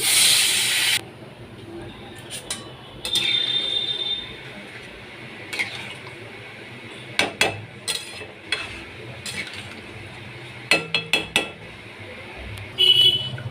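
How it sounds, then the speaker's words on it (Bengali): Water hits a hot pan of kudri and egg curry with a brief, loud hissing burst at the start, followed by quieter intermittent clinks and scrapes of utensils against the pan. "এবার এর মধ্যে আমি জল দিয়ে দেব জল দিয়ে দিচ্ছি"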